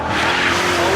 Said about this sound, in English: Lots of wheel spin there.